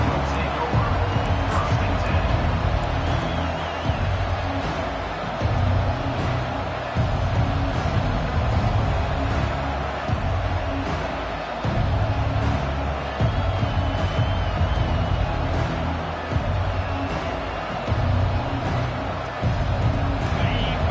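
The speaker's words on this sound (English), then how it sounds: "This crowd bringing an ear-splitting welcome to their visitors." A packed college football stadium crowd in the NCAA 25 video game, USC versus Wisconsin, roaring in a steady loud wash of noise with an announcer talking over it throughout.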